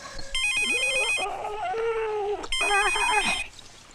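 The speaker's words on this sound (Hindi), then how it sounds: "मैं अभी अभी आशीष को फोन करता हूँ।" A telephone ringtone sounds in two close, loud bursts of repeating electronic tones, with other sounds from a comedy film scene filling the gap between them.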